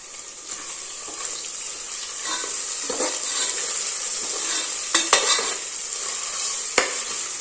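Onions sizzling in a pan for vegetable biryani, a bright continuous hiss with scattered clicks and scrapes as they are stirred and turned, no voices over it.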